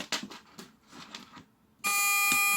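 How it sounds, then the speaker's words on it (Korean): A steady, shrill electronic buzz from a cable tester's buzzer, built from a patch panel and LEDs, switches on abruptly after a stretch of faint tapping and handling noises, then holds continuously to the end. "지금 이건 부저이고요"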